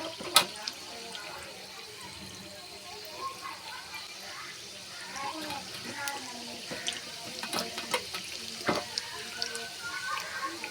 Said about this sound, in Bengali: তারপরে এটা তেলে ভাজবো।